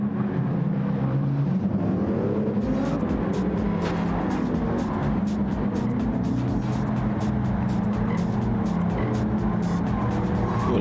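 A racing car roars through a lap in a racing video game, its engine droning steadily and close, with shifting pitch and a brief gear change near the start, alone without speech.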